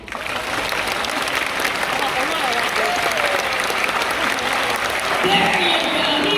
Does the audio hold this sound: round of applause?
yes